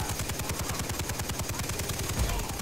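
Sustained rapid automatic fire from a mounted machine gun turret in the video game Far Cry 3, a dense, loud, even stream of shots across the whole stretch with no pauses and no talk.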